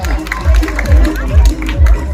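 An audience at a school anniversary celebration in Valigonda claps in rhythmic waves, loud and close, with crowd noise and voices mixed in underneath.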